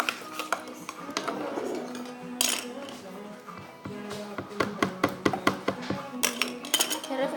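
Slime stirred in a bowl with a utensil: a run of clinks and taps against the bowl that quicken into a steady, rhythmic series of sharp knocks toward the end, fairly close.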